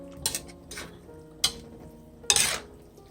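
Pancit bihon noodles are stirred in a pan with a few scattered scrapes and clinks of the utensil against the metal, quiet and close, with short pauses between strokes.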